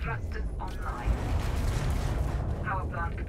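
Disabling shots strike a ship in the space game Engineers, producing rumbling booms and rapid impact bursts that continue throughout, loud and dense, with voices talking over the barrage.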